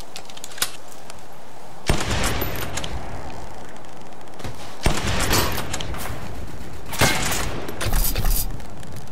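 Rapid automatic gunfire in the World War Heroes video game comes in loud, dense bursts, each breaking off after a few seconds before the next one starts.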